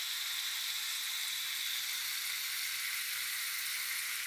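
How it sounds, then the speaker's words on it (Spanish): Spiced cauliflower browning in a frying pan gives off a steady, quiet sizzle, an even hiss with no breaks and no voices. "a la sartén y lo dejamos sofreír hasta que quede doradito"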